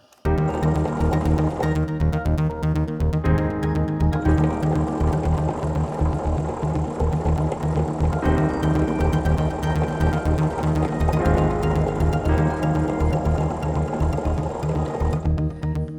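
A sewing machine stitches quilt squares along a marked line in a steady, close, continuous whir, with the rhythm briefly easing and resuming a few times.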